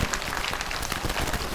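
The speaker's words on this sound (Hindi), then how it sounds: "एक जोरदार तालियां बताइए," An audience claps in a steady, even patter of applause, fairly loud and continuous with no talk.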